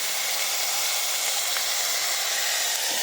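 Mustard and cumin seeds sizzling in hot oil as a tempering, a loud, steady, close hiss that stays even throughout, with no voices.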